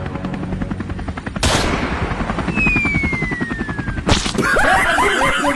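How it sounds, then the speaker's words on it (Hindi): Rapid bursts of video game gunfire aimed at a helicopter crackle over a constant chopping helicopter drone, with a sharp whistling streak and a loud crack partway through. "अबे मुझ में नहीं, हेलीकॉप्टर में गोली मारनी थी"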